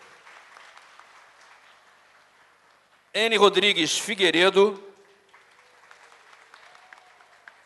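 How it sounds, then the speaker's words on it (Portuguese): Audience at a 2017–2020 board inauguration ceremony applauding faintly in the distance, a soft clapping wash that continues before and after a loud announcer's voice reading out a name. "Pode aplaudir."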